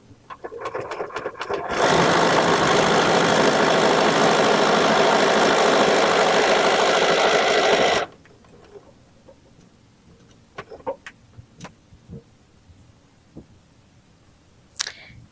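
A sewing machine runs in one loud, continuous six-second burst while stitching a $20 budget quilt along a marked line, then stops, leaving faint scattered handling clicks.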